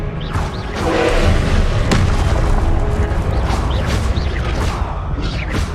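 Confringo and Expelliarmus spell blasts go off in Hogwarts Legacy as a dense run of loud booms and thuds over a constant roaring rumble. The bursts crowd closely together for the whole stretch.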